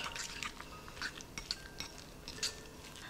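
Deviled egg filling is stirred in a bowl with a utensil, making soft wet squishing and light scraping with a few small clinks against the bowl, steady and close.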